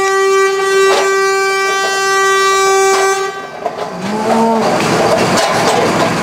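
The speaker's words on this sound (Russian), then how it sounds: "эта машина не может пройти. Поэтому и бибикает" A car horn honks loudly and steadily outside a Russian shop in Bonn, blown by a driver whose car is blocked. The long blasts are close and dominant, followed by rougher street noise as a second, lower tone joins in.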